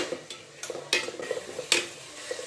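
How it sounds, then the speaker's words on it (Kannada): Vegetable soup ingredients, including added greens, are stirred in a pot with a utensil, giving soft scraping swishes and a few sharper clinks at an uneven rhythm, quiet and close, with no talking. "ಚೆನ್ನಾಗೆ ಮಿಕ್ಸ್ ಮಾಡೋಣ"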